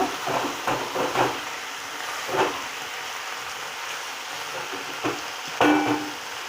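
Chicken liver frying on a high gas flame, a steady crackling sizzle with scattered pops and light spatter, close and moderately loud.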